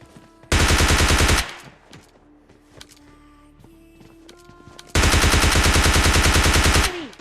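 Gunfire in a battle-royale video game: two long, loud bursts of rapid automatic shots, each lasting about a second or two, separated by a quieter stretch of footsteps and scattered game effects.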